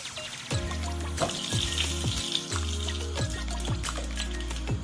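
Coconut cream pours and splashes into a pot of oil, with a steady sizzle and spatter heard up close and no talking.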